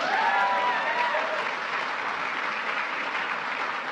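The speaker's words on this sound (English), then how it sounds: "You can clap." A crowd at a presidential trophy ceremony claps for the Secretary of Defense, a thick, loud, continuous roar of applause with a few faint whistles or cheers rising over it early on.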